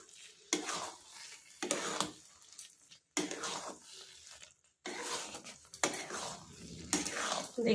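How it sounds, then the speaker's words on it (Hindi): Spatula stirring an amla launji mixture in a cooking pan, in short separate bursts of scraping and soft sizzle divided by brief silent pauses. "इन सब को मैं अब अच्छे से मिक्स कर दूंगी। और इसे मिक्स करके मैं 1 मिनट पकाऊंगी।"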